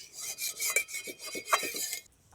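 A wok being scrubbed clean after cooking bottle gourd, a series of short rasping rubs in quick rhythm, close and fairly quiet, ending abruptly.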